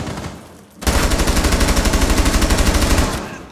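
Rapid mounted machine gun fire in Rainbow Six Siege, a loud, close, evenly pulsing burst of about two and a half seconds after a short lull, with no talk over it.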